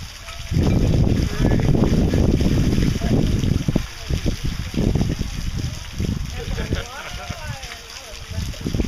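Saline water pours steadily through a vessel on a model bridge, making a continuous broadband rush with splashing that runs under people talking nearby.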